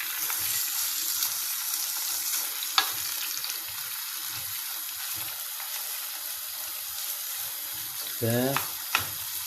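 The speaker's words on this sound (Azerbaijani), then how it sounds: "yağımız belə əridikdən sonra ətimizi əlavə edirik" Meat added to melted fat in a pan for makaron xengeli fries with a steady broadband sizzle, broken by a couple of sharp clinks and a brief scraping stir near the end, with a single spoken word.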